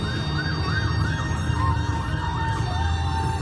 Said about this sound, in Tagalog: May ambulansya pa.